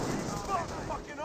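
Gunfire in a Company of Heroes 1 match as a Wehrmacht Grenadier squad comes under fire, dense crackling shots and rumbling bursts blending into a continuous battle din, with a voice talking over it.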